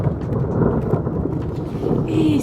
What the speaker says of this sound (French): c'est genre des orages violents en plus